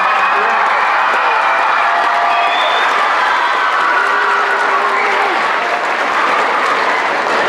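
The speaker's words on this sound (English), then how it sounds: "would you please give them a round of applause?" Auditorium audience at a school choral showcase applauding three middle school teachers, dense sustained clapping with some cheering and crowd voices throughout, loud and continuous.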